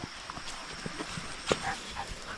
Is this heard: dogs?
yes